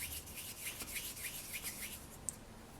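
A hand rubs and smooths polymer clay in quick, rhythmic strokes. The scuffing is faint and close, with one sharper tick near the end.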